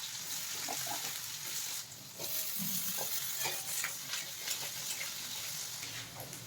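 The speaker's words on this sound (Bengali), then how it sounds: "আলুটা ভাজা হয়ে গেছে," Potatoes frying in hot mustard oil with cumin and dried chillies, a steady close sizzle with occasional stirring scrapes and a brief dip partway through.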